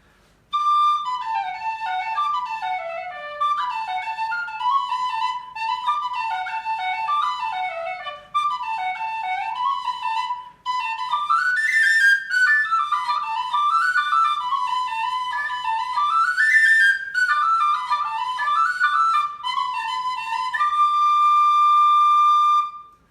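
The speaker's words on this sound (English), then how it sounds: "This is the Tony Dixon Trad brass whistle, which is what we call the improved whistle" A Tony Dixon Trad brass tin whistle plays a lively traditional melody alone, clear bright notes with quick ornaments and runs, ending on a long held tone.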